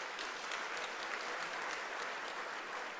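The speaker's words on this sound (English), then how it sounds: "I think this deserves a round of applause." Steady audience applause fills a university's official opening ceremony for its academic year, a dense unbroken wash of many hands clapping at moderate, even loudness throughout, with no voices rising above it.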